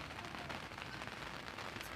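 Rain falls steadily on a surface outdoors at a men's open singles championship, a dense, even hiss with no talk.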